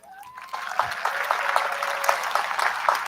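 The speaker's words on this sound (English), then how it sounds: "give them a round of applause." Audience applause at a high school graduation ceremony, beginning softly then swelling into steady crowd clapping that continues throughout, with a faint tone and stray voices beneath.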